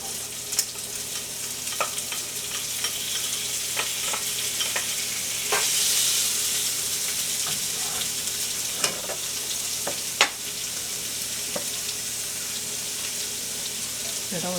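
Onions sizzling in rendered grease for okra, corn and tomatoes, a dense steady frying hiss up close with scattered stirring knocks and scrapes, no talking.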